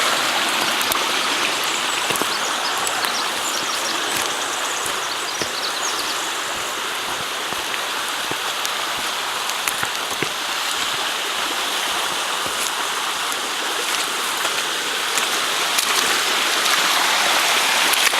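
Water rushes steadily through a ram pump that is not working properly, a continuous close splashing hiss with faint irregular gurgles and taps throughout, and no talking.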